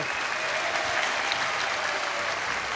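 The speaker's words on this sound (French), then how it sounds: "Là, vraiment, on peut les applaudir vraiment" Studio audience of a French family game show claps for two contestants, a thick, even wash of applause filling the whole stretch without a break.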